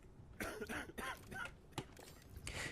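A patient in a video game coughing, several rough, close coughs in quick bursts with brief throat-clearing between them, moderately quiet.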